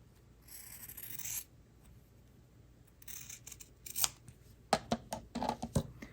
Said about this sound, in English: So I'll cut this little ribbon down.